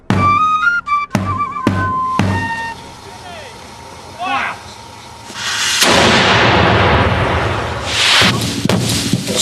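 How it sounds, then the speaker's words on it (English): A heavy boom of a cannon shot rolls out amid mechanical clanks and engine noise, followed by a long roaring rumble, with someone talking over it. "Time to wheel out the cannon."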